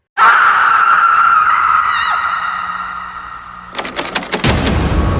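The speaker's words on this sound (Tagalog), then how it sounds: "ang mga sigaw sa gabing iyon ay umaalingaungaw sa buong bayan" A single long, loud scream rings out and slowly fades, followed by a clattering, thumping crash.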